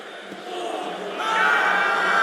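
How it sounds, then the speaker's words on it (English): A stadium crowd at an India vs Pakistan T20 cricket match, sustained cheering and applause that swells louder midway, a broad distant roar. "they'll receive a warm reception from the crowd"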